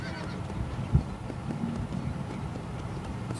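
Horse in the video game Red Dead Redemption, with clip-clopping hooves and a short neigh over a low rumbling game soundscape, one sharp accent near the start and steady hoof rhythm after.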